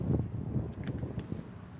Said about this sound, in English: it is absolutely windy and cold.